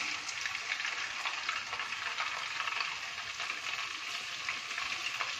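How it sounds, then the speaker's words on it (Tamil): Noodles frying in hot oil for restaurant-style American chopsuey, a loud, continuous bubbling sizzle heard close and steady from start to finish with no talking. "இப்போ ஆயில் ஹீட் ஆயிடுச்சு இதில் நூடுல்ஸை ஃப்ரை பண்ணலாம்"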